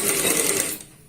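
A sewing machine stitches gota trim onto a kurti, a steady close whirring run that slows and trails off near the end.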